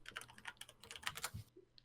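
Loud computer keyboard typing picked up by a Snowball microphone: a quick, uneven run of sharp key clicks for about a second and a half, close and crisp, then a near stop with one stray tap.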